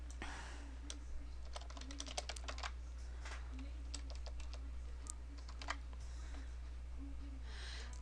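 Keys tapping out a greeting-card message on a computer keyboard, a steady run of light clicks under a constant low hum, with no talking.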